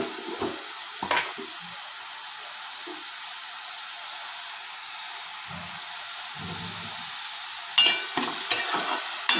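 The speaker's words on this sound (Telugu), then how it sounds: "ఉల్లిపాయ మగ్గే వరకు మనం అయితే ఫ్రై చేసుకుందాము" Onions fry with a steady sizzle in a pan for fish curry, salted, while a spoon stirs them in a few scraping bursts near the start and again toward the end.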